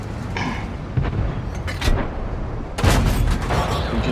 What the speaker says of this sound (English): And now he is switched to HE shells to make my life hell.